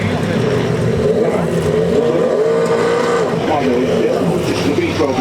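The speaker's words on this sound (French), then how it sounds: "Just the V12 noise, Aston Martin noise" An Aston Martin V12 race car drives at a Goodwood motorsport event with its engine howling loudly and continuously, the pitch rising and falling through the clip while a commentator talks over it.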